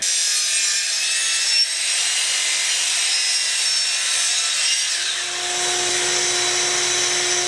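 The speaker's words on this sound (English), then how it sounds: "I'm going to cut some of these up, and I'm going to make the top frame" A power saw cuts through deck boards and 2x4 lumber in one loud, sustained whine that holds steady, dips briefly near the end, then carries on at a slightly different pitch, with no voices.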